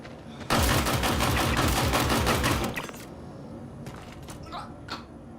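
Automatic gunfire in the sci-fi video game Star Citizen rattles in a loud, rapid burst for about two seconds, then stops, followed by quieter scattered game sounds.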